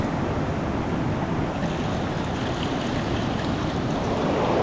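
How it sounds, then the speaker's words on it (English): Water sloshes and washes material down into a gold pan at a prospecting claim, a steady broadband rush with no talk. "A little bit of water, just wash that down and you're good to go."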